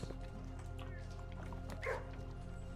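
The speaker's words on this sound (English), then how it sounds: "It's okay, digital dogs." Dogs yip and bark in the kennel of the video game Blue Prince, a brief faint burst buried under steady droning game music.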